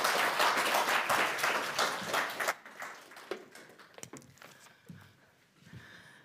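Audience applause at a NATO conference event fills the room at moderate volume, dense steady clapping for a couple of seconds before thinning into scattered, fading claps.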